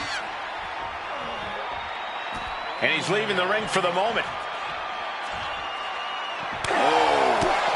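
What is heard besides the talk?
hostile wrestling crowd reacting, from video game WWE 2K26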